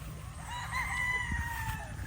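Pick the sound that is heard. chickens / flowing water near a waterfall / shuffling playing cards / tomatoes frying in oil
chickens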